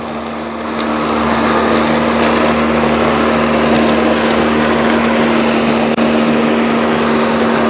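A DeWalt DCMWSP156 cordless self-propelled lawn mower runs steadily and loud while mowing grass along the edge where asphalt meets the lawn, a constant motor whine with blade hum that starts up in the first second and holds with no talk.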